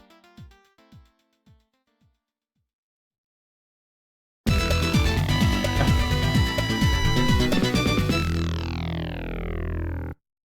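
Level-complete jingle from the Streets of Rage video game: a few short plucked bass notes fade out, then after a pause a loud, dense synth fanfare plays for about five seconds before ringing off.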